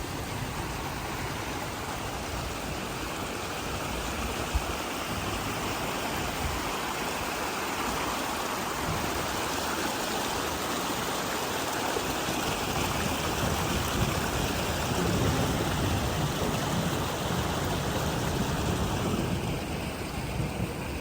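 Storm runoff washes over a pond pier after a big storm, a steady broadband rush of running water that holds at a constant level throughout, with no voices.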